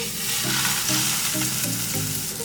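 A Cuban frita burger patty fries in a pan over medium heat, giving a steady close sizzle with soft crackling and no talk.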